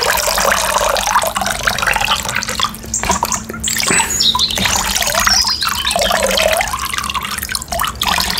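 Running water splashes and drips steadily with playful handling, bubbling and trickling like a filling tub or tap, with faint bird chirps in the background and no talking.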